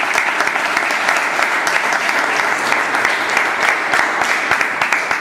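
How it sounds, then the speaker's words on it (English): Loud, sustained applause from an audience at a formal gathering, dense clapping with sharp individual claps standing out, continuing steadily for the whole stretch. "So for a job well done, a big round of applause."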